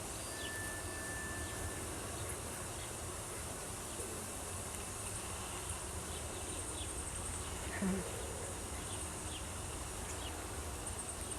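A dense, steady hum of many honey bees buzzing together in an open hive, close and continuous, with a faint voice briefly underneath.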